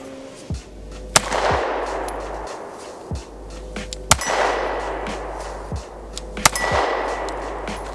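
Zev OZ9c pistol shots ringing off a 2/3-size ADAP steel target outdoors, four sharp shot-and-clang pairs spaced a few seconds apart, each with a bright metallic ping and decaying echo.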